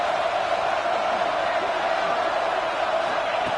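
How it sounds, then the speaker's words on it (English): Steady roar of a stadium crowd in a college football video game playoff matchup against Arizona State, a dense, continuous wash of noise holding at even loudness throughout, with no distinct cheers or calls standing out. "listen to this crowd noise"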